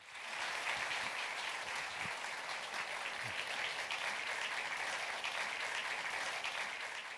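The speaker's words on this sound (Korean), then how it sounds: "큰 박수로 맞아주시기 바라겠습니다" A seated audience gives sustained applause to welcome an environment minister at a lecture event. The clapping is dense and even throughout, moderately distant and without talk.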